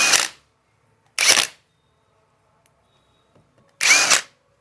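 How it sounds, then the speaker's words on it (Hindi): A power tool loosens the bolts on a Pulsar 220F motorcycle clutch in three short, loud, close bursts separated by quiet gaps, with faint metallic clicks in between. "एक ही टूल से दोनों बोल्ट ओपन हो जाएगा"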